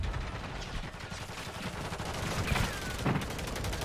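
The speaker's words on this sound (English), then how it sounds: "That's a lot of grenades." Dense, continuous rumbling gunfire and explosions from a flurry of grenades in a video game battle, a loud, steady wash of blasts with no clear gaps.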